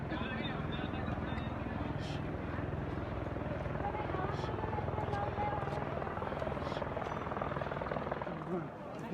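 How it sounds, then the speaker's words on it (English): A helicopter flies over Kedarnath, its steady rotor chop thumping continuously at moderate distance, quiet overall, with faint voices in the background. "You can see the helicopter roaming like any other truck here."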